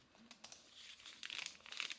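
A gift package from birthday mail is opened, its paper crinkling and rustling in quick bursts of soft, close crackle, with no talking.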